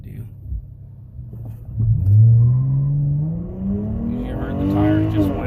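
A Dodge Challenger fitted with NGK spark plugs and Ripp coil packs launches from a stop, engine rumbling low before a rising, revving acceleration surges loudly, heard from inside the car.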